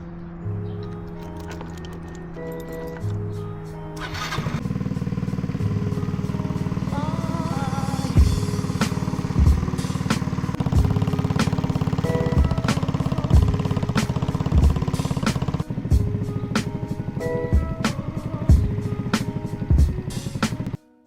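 A Yamaha Riva 125 scooter rides along with its engine droning loud and close, rising in pitch as it accelerates, with a few brief dips and clicks along the way.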